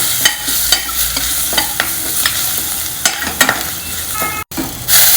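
Cumin seeds, asafoetida, green chilies and crushed garlic fry in ghee, a steady bright sizzle with a spoon clicking and scraping the pan at irregular intervals, close and clear with no talk.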